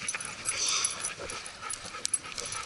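Dogs on leads on an outdoor walk give soft, faint whimpers and small yips against a steady hiss of open-air background noise, with no talking.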